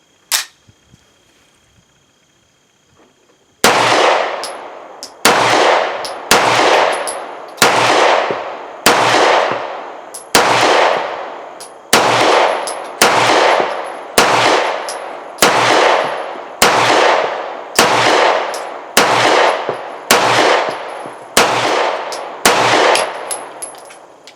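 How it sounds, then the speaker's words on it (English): An IWI Jericho 941 9mm pistol firing MagTech 124 grain jacketed rounds outdoors, delivering about fifteen loud, sharp reports at a steady, unhurried pace with a short ring after each shot. "I'm going to be shooting some MagTech 124 grain jacketed, and comes with two 16-round magazines. So let's see how it fires."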